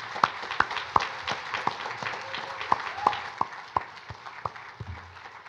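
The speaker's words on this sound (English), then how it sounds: "please join me in a round of applause for the gentlemen standing here" Sparse applause from a church congregation, a handful of distinct sharp claps spaced irregularly over a quiet room, fading toward the end.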